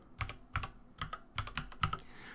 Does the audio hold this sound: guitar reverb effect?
no